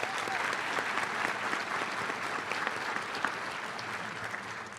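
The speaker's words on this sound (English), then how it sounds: "Let's have a round of applause for all of our undergraduate highlights" A large audience at a spring university graduation ceremony for undergraduates gives sustained applause, a thick, continuous roar of many hands clapping at once.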